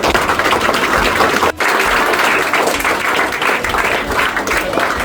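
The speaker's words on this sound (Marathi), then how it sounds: "याच्यासाठी सगळ्यांनी टाळ्या वाजवतात." Loud, continuous audience applause fills the hall at a Shiv Jayanti essay competition event, dense clapping sustained throughout with one brief dropout early on.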